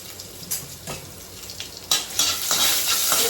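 Garlic, curry leaves and asafoetida sizzle in plenty of hot oil for an Indian tempering, with a steady close frying hiss broken by sharper bursts as the pan is stirred.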